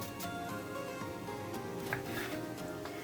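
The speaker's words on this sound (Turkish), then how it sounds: "minik minik doğramaya devam ediyorum." Rapid knife chopping of eggplant into small pieces on a cutting board, a steady run of quick close taps with a faint background hum.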